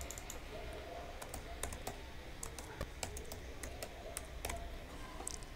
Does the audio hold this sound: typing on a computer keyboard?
yes